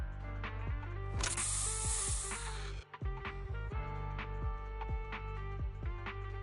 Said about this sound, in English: Here, have a taste of the special Bang Boo spray.